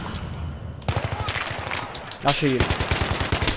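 Rapid automatic gunfire from Battlefield 3 multiplayer among village houses, sustained bursts of repeated shots close by, with a brief pause before another heavy volley; someone speaks over part of it.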